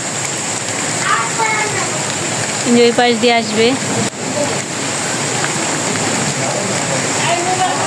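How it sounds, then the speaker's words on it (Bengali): Heavy raindrops fall steadily in a village, making a continuous close patter and hiss on surfaces, while someone speaks briefly over the rain. "বৃষ্টির ফোঁটা পড়ছে"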